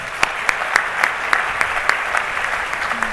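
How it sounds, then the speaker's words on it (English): A conference audience applauds for a few seconds, a dense, even patter of many hands with a few sharper claps standing out near the front. "Let's give her one more round of applause"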